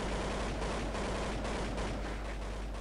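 Rapid bursts of gunfire from a Counter-Strike match, with steady layered shots and rattling fire at close to middling distance, loud and continuous throughout with no voices.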